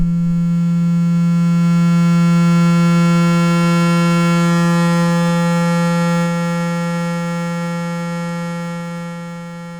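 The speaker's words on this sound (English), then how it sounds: "here we see the sine wave, and as we dial the wave shaper," A steady Serge 1973 VCO synthesizer sine wave with a low fundamental, wave-shaped so it gradually grows richer and buzzier in harmonics, then softens slightly toward the end; no voices.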